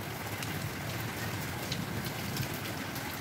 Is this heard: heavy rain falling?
yes